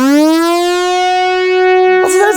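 A two-oscillator synth lead glides with portamento into a single smooth, bright sustained note, loud and close, and the two oscillators arrive slightly apart before a brief new note at the end.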